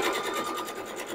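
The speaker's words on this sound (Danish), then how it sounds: "Og så syr jeg rundt i skyggen hele vejen rundt." A sewing machine runs steadily as it stitches around the brim of a fabric bucket hat, a close, continuous rapid whirring hum with no pauses.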